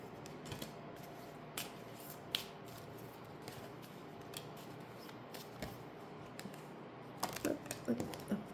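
Tarot cards being shuffled by hand, soft papery riffles and taps spread over a quiet room, with a denser flurry of card snaps near the end, faint and close.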